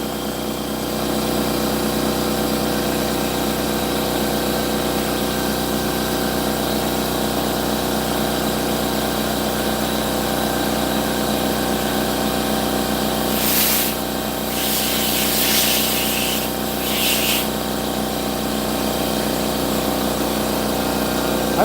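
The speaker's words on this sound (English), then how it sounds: "I'm just scuffing up this rim so that way I can paint it" A power tool scuffs a Regal's car rim before painting, running as a loud, steady droning whir with a few brief hissy bursts near the end.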